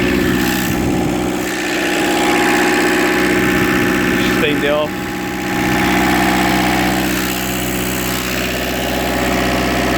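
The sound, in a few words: Kubota KH-90 excavator engine idling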